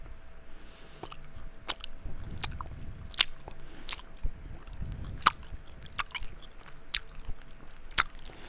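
Close, wet chewing of blue raspberry gum, with rhythmic sticky smacks and crackles repeating about once a second throughout, no talking.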